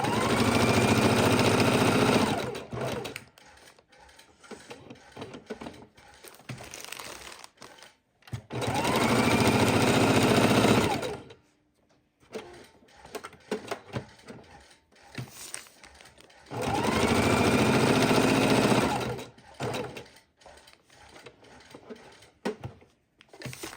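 Sewing machine stitching gold thread around a buckle in a raw edge appliqué project, running in three loud sustained bursts separated by quieter pauses with handling sounds.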